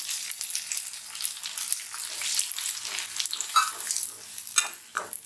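Onions and tomatoes with spice powder sauté in hot oil for a tamarind drumstick curry, a steady close sizzle broken by occasional scrapes and stirring clinks of a spoon against the pan, no voices.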